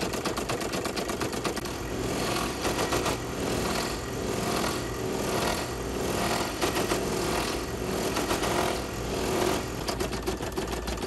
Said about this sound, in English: And now it's doing the satin stitch.